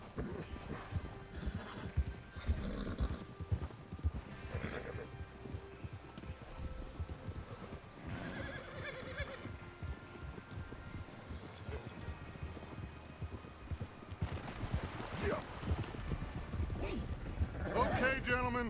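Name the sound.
horses riding, video game Red Dead Redemption 2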